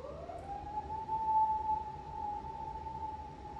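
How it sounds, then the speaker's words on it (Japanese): An emergency vehicle siren wails steadily from a distance as it passes, a faint, sustained high tone rising slightly and holding over a low background rumble. "すごいピーポーだったね"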